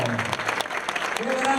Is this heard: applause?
yes